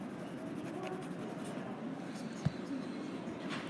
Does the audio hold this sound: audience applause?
no